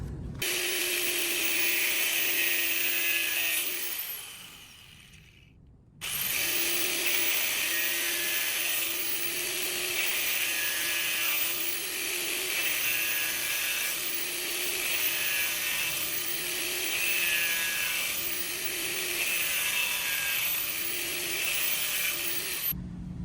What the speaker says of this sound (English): I cut that one top portion of the plastic right here